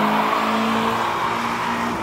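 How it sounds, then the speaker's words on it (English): A loud Dodge Hellcat pulls away from a car meet, its engine holding a sustained, heavy roar with a steady droning note that fades slightly near the end. "That's the Hellcat, the loud Hellcat."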